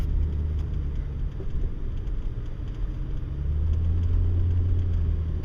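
A car cruising along a highway produces a continuous low engine rumble and road noise, steady and close throughout, with no voices.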